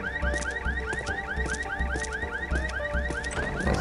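Car alarm in the Land of the Dead video game, a looping electronic siren of rising whoops and pulsing tones repeating steadily and fairly loud, with no talk over it.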